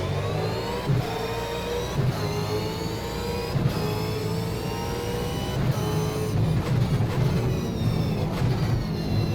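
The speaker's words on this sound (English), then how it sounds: "We are driving in Chaz Mostard's super cheap auto Falcon." A V8 Supercar Ford Falcon races at Winton Motor Speedway in the Automobilista video game. Its engine drones loudly and continuously at high revs, with regular short dips as it shifts gears.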